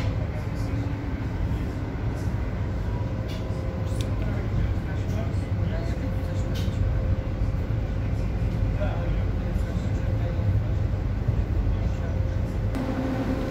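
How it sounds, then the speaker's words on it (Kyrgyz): Steady low rumble and rolling drone inside a Lobnya commuter train in motion, continuous and close, with a person talking over it. "Бул жөн эле Лобня дегендин поезд экен да."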